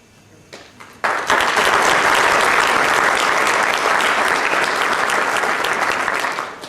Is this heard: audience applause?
yes